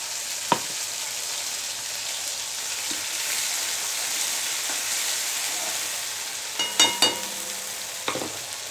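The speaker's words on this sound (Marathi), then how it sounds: "याच्यात तेल खूप तापले आहे, त्याच्यामुळे मी थोडंसं याच्यामध्ये ओला मसाला टाकलेला आहे." Wet masala and spices fry in very hot oil, a constant soft hiss with a few sharp pops and crackles near the end, close up and fairly quiet with no talk.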